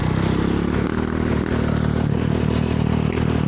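A dirt bike engine drones close and loud during a ride, a continuous rough mid-pitched growl with some clatter and no speech.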